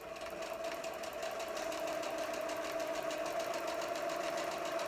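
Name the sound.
sewing machine stitching a Halloween quilt block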